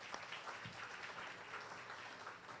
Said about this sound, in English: So I think let's give them another warm round of applause.